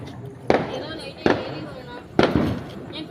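Three sharp, loud firecracker bangs go off at uneven intervals during Diwali, each followed by a short crackling decay.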